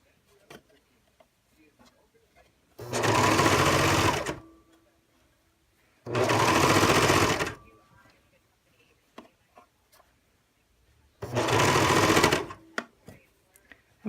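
A sewing machine stitching a seam runs in three separate bursts of a second or two each, loud and close, with quiet gaps and small handling clicks between runs.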